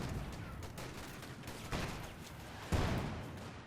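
Rifle gunfire from the Company of Heroes 2 strategy game, with veteran infantry riflemen armed with BARs, cracks in scattered shots and bursts at low volume against a steady battle background.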